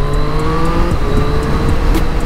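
Engine of a Triumph Street Triple RS motorcycle pulling hard through the gears with a quickshifter, a steady loud drone with rising harmonics and brief shift breaks, no talking.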